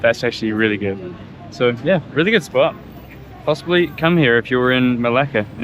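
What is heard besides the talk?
No distinct noise like a dog, phone or traffic.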